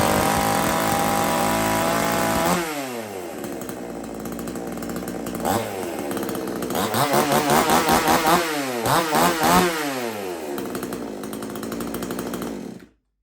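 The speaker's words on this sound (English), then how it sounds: "But here we go, full throttle again." A Chinese Supmix chainsaw, a budget model, revs loud and close at full throttle, its engine note rising and falling through repeated bursts before cutting off abruptly at the end.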